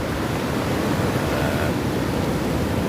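Surf at St Mikes beach roars as a continuous broadband wash of breaking ocean waves, loud and steady with no distinct individual crashes.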